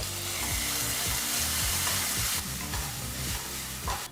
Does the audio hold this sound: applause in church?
no